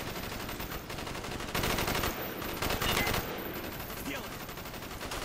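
Rapid gunfire and sustained bursts of shooting from the Black Ops 1 campaign plane crash mission, loud and dense throughout with overlapping shots and heavier volleys.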